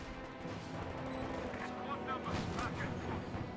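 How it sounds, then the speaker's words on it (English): A half-track fires in the Company of Heroes 2 video game, dense rolling bursts of gunfire and explosive booms layered into a continuous loud battle din, with a voice present. "Black half track firing away."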